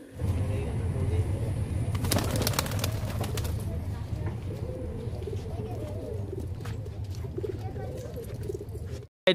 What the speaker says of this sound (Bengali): এটা হচ্ছে নর পায়রা, প্রচুর ডাগিয়ার পায়রা